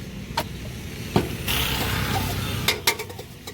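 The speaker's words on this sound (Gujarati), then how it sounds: "બધા મસાલા નાખી અને મિક્સ કરે છે" Spices being stirred into a roadside corn dish give a soft scraping, mixing rustle with a few sharp clicks of a spoon against the container, close and fairly quiet, no talk over it.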